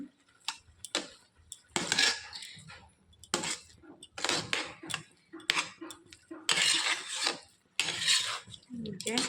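Gobindobhog rice pulao with milk and salt is stirred in a pot, with repeated close scraping and rasping strokes of a spoon against metal in an uneven rhythm, and a voice speaks in between.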